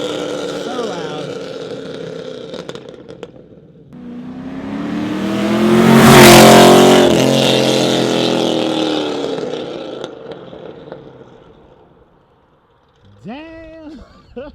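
A Chevrolet Camaro fitted with a TSP cam approaches and roars past with a loud, choppy V8 engine note that builds to a peak and then fades into the distance, with voices talking around it.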